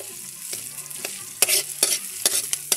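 Susong bukiki snails being stirred and fried in a pan, a steady sizzle under scraping and clinking stirring strokes that grow louder partway through, close up with no voices.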